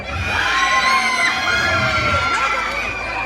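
An audience at a hypnosis show screams and cheers in a sustained, loud burst of shrill, overlapping voices that holds steady throughout.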